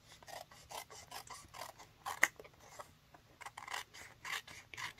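Scissors snip and trim around the edge of a folded paper pinwheel tower card, giving a steady run of soft, close rasping cuts with short pauses between strokes and no talking.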